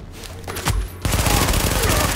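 Gunfire in Tom Clancy's The Division on PS4: a sharp single shot, then a loud, continuous burst of rapid automatic fire filling the second half, close and dense.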